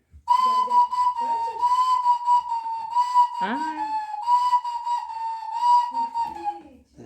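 A clay whistle, played at the Shevchenkivskyi Hai open-air museum in Lviv, holds a shrill, steady tone for several seconds, with short breaks and pitch slides, close by with faint background noise.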